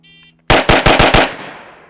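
A SIG 556 rifle fires a quick string of five loud, close shots in rapid succession, each sharp crack ringing out, then echoing away into silence.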